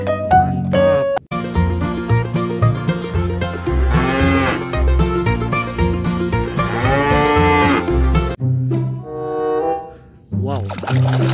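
A water buffalo moos in a video game, with low, drawn-out bovine calls repeating over game music and sound effects, loud and close, while a voice talks at times.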